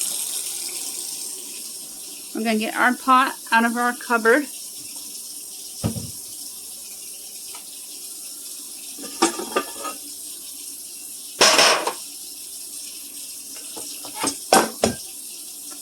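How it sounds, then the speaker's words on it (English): A kitchen faucet runs in a steady, soft hiss under the whole stretch, while a person speaks in short bursts and a few brief knocks from pots and cupboards cut through. "Always let the water run for a minute or two, especially if you haven't used your faucet yet that day."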